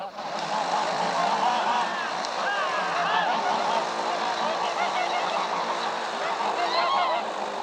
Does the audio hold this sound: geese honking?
yes